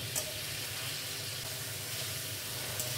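Pieces of katla fish sizzle steadily in a pan over medium heat, a dense, continuous frying hiss that stays even and close for the whole stretch with no talking.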